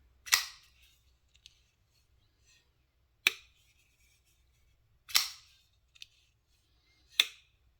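A Twosun TS275 folding knife with titanium and carbon fiber handle snapped open or shut four times, each a crisp loud mechanical click ringing briefly in a quiet room, with faint softer clicks between.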